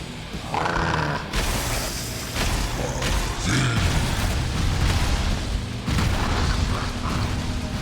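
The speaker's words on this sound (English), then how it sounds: "Okay, that's a lot of fire." Repeated heavy booms and roaring bursts from the final boss's fire attack in Valheim, loud blasts recurring every second or two over a constant crackling rumble.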